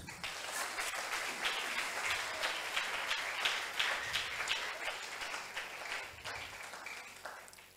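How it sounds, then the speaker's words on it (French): A church congregation claps steadily for about eight seconds at a Christian leadership gathering, a dense, even wash of hands with small swells and no voices standing out. "Applaudissez pour le Seigneur."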